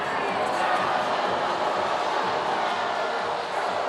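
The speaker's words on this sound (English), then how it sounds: "Crowd none too pleased with the stalling in the action." A packed volleyball arena crowd of about 9,000 fans at a men's college match in Hawai'i gives off a steady, loud, broadband roar of murmuring and grumbling that fills the whole stretch without a break.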